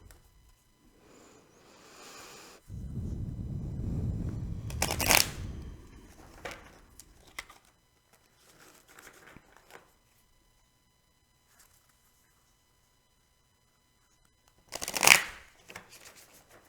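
A deck of tarot cards is shuffled close by, a dense riffling flutter that lasts a couple of seconds, followed by scattered light card snaps and taps, with one more sharp flick near the end.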